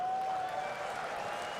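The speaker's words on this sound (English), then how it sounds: "Can we have a big round of applause" A conference audience claps in a broad, steady wash of applause from a crowd, moderately loud and continuous throughout.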